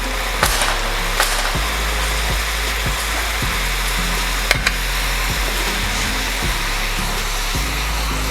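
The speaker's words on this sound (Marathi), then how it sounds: "शेव पाडून घ्यायचे आहेत आणि मीडियम गॅसवरती फ्राय करायचं आहे।" Rice flour sev frying in hot oil over a medium flame, a steady, close, continuous sizzle and bubbling with a few brief clicks and taps, no voices.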